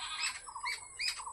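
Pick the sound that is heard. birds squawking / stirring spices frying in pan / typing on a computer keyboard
birds squawking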